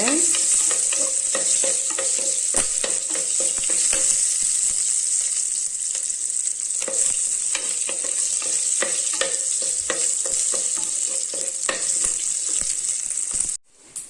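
Five or six chopped small onions sauté in a pan for a green gram gravy, giving a steady, close sizzle throughout, broken by frequent stirring scrapes, before it cuts off abruptly near the end.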